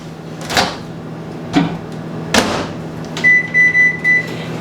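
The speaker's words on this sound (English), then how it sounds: "So I'm just gonna put this in the microwave like this." A microwave oven door thumps open and shut a few times before the oven starts with a steady hum, followed by a run of electronic beeps.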